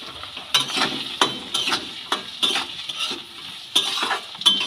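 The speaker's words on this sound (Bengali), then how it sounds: "সমস্ত সবজিগুলো নেড়ে ফেড়ে খুব ভালো করে ভেজে নেব" Chopped onion, green chilies and peas fry in a pan for spicy semolina upma, as a spatula scrapes through them in repeated sharp strokes over a constant sizzle.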